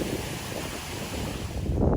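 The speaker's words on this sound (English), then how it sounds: "Come to our first little waterfall." A small waterfall on a side creek in the Icelandic highlands rushes in a continuous broadband roar, close and loud, mixed with some wind buffeting on the microphone.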